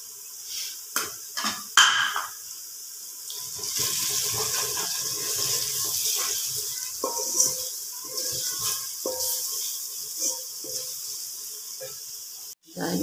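A little water poured into a pan of spiced potatoes and peas (aloo matar sabzi) in a home kitchen, a soft sustained splash and sizzle with a few metal clinks, fairly close.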